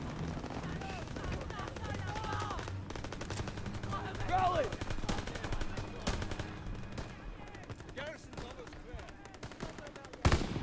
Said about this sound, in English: I'm gonna shoot him anyway